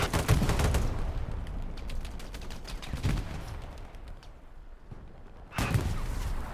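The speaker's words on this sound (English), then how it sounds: "Artillery and tanks that shell the area." Artillery and tank shelling in the video game Hell Let Loose: repeated heavy blasts and gunfire crack out at irregular intervals, with loud impacts at the start, near three seconds and again toward the end.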